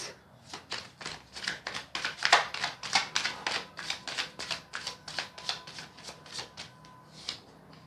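Tarot cards are shuffled and laid out by hand in a quick run of crisp, rhythmic flicks and slaps, close and clear, slowing toward the end.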